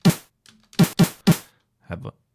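Short, punchy Commodore 64 chiptune snare hits made in GoatTracker, in an irregular pattern, each a crisp noisy burst that decays quickly, with a softer pair near the end.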